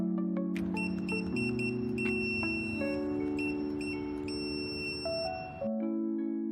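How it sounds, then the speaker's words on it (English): A long, steady electronic beep tone from a JUJIANG TKM-01 wireless gate-opener keypad sounds, breaks off briefly, then sounds again, clear and close with no voices. "The keypad sounds a long beep twice"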